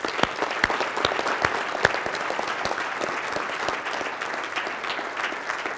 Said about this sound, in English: How about a round of applause for Kimberly?